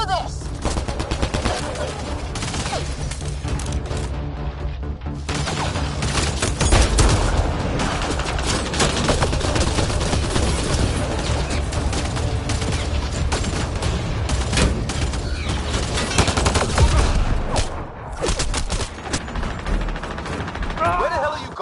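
Sustained gunfire from a firefight in the video game Mass Effect Andromeda, loud and continuous bursts layered over a dense background of combat noise for the whole stretch.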